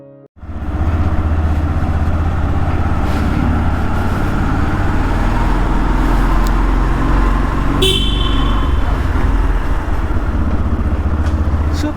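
A motorcycle engine drones steadily on the road, with a short horn toot partway through and traffic noise around it.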